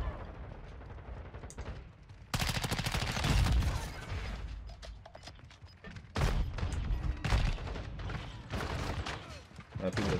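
Shotgun blasts in Call of Duty MW2, loud heavy bursts of gunfire with booming reports, separated by brief lulls of quieter game ambience.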